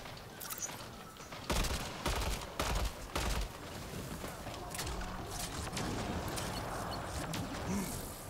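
Sniper fire in a firefight in Mass Effect: Andromeda comes as a few sharp, loud bursts early on, then dense crackling combat noise carries on steadily.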